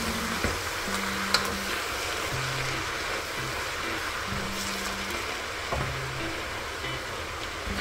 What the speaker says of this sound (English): Mix this all the way through.